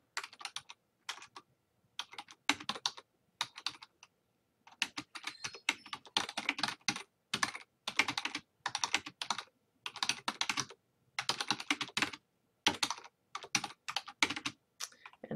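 Fast typing on a computer keyboard while a comment is entered on a wiki page: bursts of crisp, close key clicks separated by brief pauses, with no talking.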